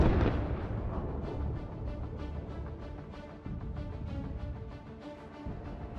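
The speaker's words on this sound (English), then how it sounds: "A mine is tearing a hole in the bottom of this tank." A tank hits a landmine, setting off a deep, rumbling explosion whose broad boom decays into a lingering roar, heard at a distance without any voices.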